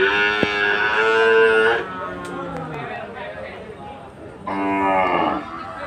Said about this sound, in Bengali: একটা সুন্দর কালারের একটা গরু।